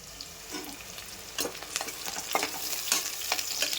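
Onions fry in a pan for tomato rice, giving a soft steady sizzle broken by scraping stirs of a spoon against the pan, with no talk.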